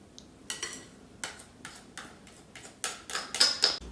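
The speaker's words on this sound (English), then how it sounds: "So just spreading it out with a spatula or a knife if that's what you've got." A spatula spreads cream across a chocolate yule log sponge, making a series of soft, close scraping strokes and light taps at an irregular rhythm, with no voices.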